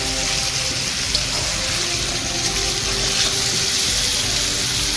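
Boiled cauliflower and small fish frying together in a pan give a constant, dense hissing sizzle. It stays loud and even throughout, close up, with no voices.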